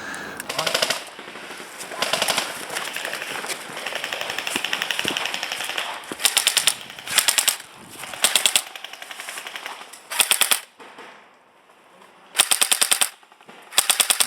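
An APS M4 RIS airsoft rifle with full metal body and electric blowback fires rapid full-auto bursts, starting with a long sustained string and then breaking into shorter separate bursts, loud and close, with no talk.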